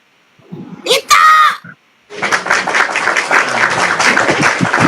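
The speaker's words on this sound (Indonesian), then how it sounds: "Tepuk tangan dulu." An audience claps on request: a voice calls out briefly first, then after a short pause loud, dense clapping breaks out and continues to the end.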